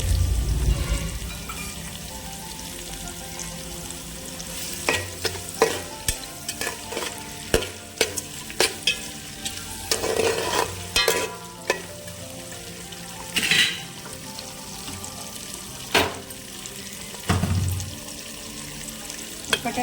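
Peanuts sizzle in a hot tempering for upma while a spoon scrapes and knocks against the pan in repeated irregular strokes, close and clear over a steady frying hiss, with no talking.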